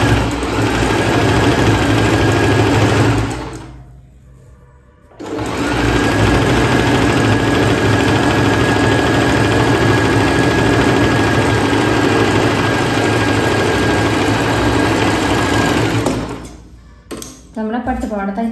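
An electric sewing machine stitches a silk pattupavada skirt, a loud steady mechanical whir that stops briefly near the middle, restarts and runs on before ending with a few clicks and handling noises.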